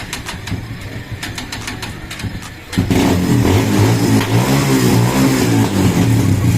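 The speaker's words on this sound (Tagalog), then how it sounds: "Ayan po yung bagong CDI. Gumagana po yung electric starter." Kawasaki Barako 175 motorcycle fitted with a new CDI unit, cranked on the electric starter and catching into a steady, loud idle that runs close by without a break.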